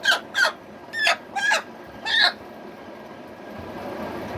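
Local desi-cross hens with small crests, cackling and clucking up close in a few short bursts over the first couple of seconds, then only a steady background murmur.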